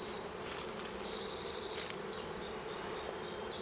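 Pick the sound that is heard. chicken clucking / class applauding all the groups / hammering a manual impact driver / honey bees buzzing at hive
honey bees buzzing at hive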